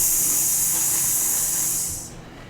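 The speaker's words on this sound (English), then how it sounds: "You hear the sound of steam hitting hot metal." Steam hissing against hot metal, a steady loud bright hiss that holds evenly and then fades out near the end, with no voices.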